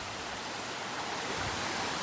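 A tall waterfall deep in a forest gives a dense, steady broadband roar of rushing water, constant and fairly loud throughout with no voices or other sounds.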